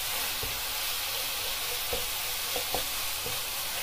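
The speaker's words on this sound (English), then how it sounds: "So my meat's just browning, and I'm just wanting to break that up as it does sort of cook and brown." Minced meat browns in a pan with a constant loud sizzle, and a few soft knocks come from a utensil breaking it up.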